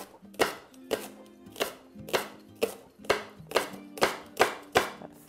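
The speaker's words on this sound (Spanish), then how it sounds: "vamos a cortar puerros" A knife chopping leeks on a cutting board, about eleven crisp, evenly spaced strokes in a steady rhythm, close and clear with no talking.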